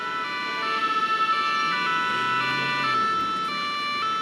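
Fire brigade emergency vehicle siren wailing continuously at close range, a loud, steady tonal alarm with a brief warbling pulse, heard alone without speech.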